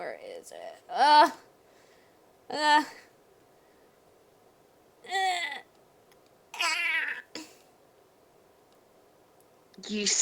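A person imitates a cat with several drawn-out meows spaced apart, each voiced separately against a quiet background with faint low hum.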